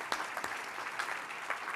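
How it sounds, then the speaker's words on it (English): A conference audience in a large hall breaks into sustained applause, a dense, even wash of many hands clapping throughout, with a few sharper claps standing out. "Give yourself a round of applause."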